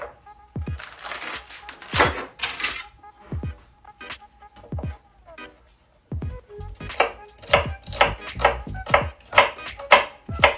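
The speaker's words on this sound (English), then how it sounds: "I like to cut my onions up pretty small." Onions being chopped with a knife on a cutting board, sharp irregular knocks at first that settle into a quicker, regular run of close, loud cuts, with some speech mixed in.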